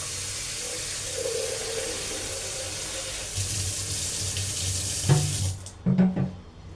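Water runs steadily from a kitchen tap into a bowl while karantika, an Algerian chickpea bake, is being made; a continuous close rush ends with a few short knocks and splashes.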